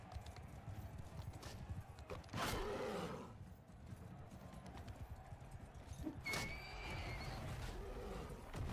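Horse neighing in a video game, two sharp whinnies among hoofbeats and combat sounds, moderately loud and clear.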